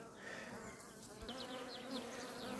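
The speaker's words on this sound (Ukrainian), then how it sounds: "У нас вже вечір, звичайно, бджолки трошки агресивні" Honey bees buzz steadily at an open beehive in the evening while frames of wax foundation are handled, a close, continuous insect drone with brief higher whines of individual bees passing near.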